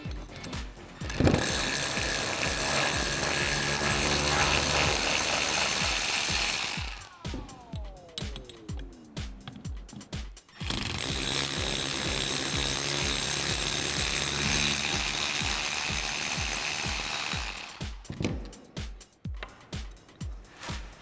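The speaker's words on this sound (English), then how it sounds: "So I'm going to take my ratchet with my T20 Torx, remove these." A hand ratchet with a T20 Torx bit turns out the bolts on a Ford Performance twin 62mm throttle body of a 2005-2010 Mustang GT. The pawl clicks in steady, rapid runs, loud and close, with short pauses between bolts.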